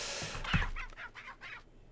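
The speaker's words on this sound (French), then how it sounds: "Il y a une poule qui s'est fait tuer derrière la maison." A brief, distorted squawk of a chicken being killed in Resident Evil 4, a sharp cry followed by a few choppy clucking bursts, heard up close.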